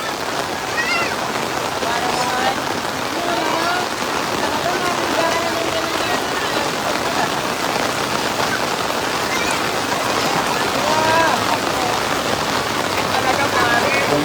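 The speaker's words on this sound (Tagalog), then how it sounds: "Lakas ng ulan, tuloy-tuloy." Heavy, unbroken rain pours during flooding on Commonwealth Avenue in Quezon City, a loud steady wash of drops hitting water and surfaces throughout, with faint voices in the background.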